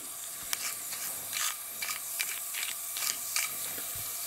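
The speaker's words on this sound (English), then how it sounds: "Fizzes up, creates gas, which stinks." A fart bomb pouch of vinegar is squeezed until it pops, then fizzes and hisses steadily as gas builds, with soft crackling bursts repeating at close range.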